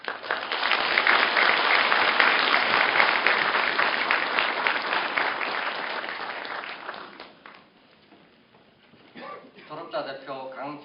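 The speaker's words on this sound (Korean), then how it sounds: "자축의 박수로 저의 부족한 답사를 마무리하도록 하겠습니다." Graduates at a university degree ceremony give themselves a round of applause, strong, sustained clapping that gradually fades out, followed by a voice speaking over a sound system.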